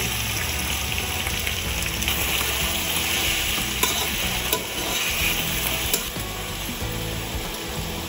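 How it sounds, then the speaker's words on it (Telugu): Onions frying in oil in a pan make a loud, continuous sizzle with crackling bursts and occasional stirring, close and steady with no voices. "ఈ ఆనియన్స్ అన్ని ఆయిల్లో ఫ్రై చేసుకోవాలి"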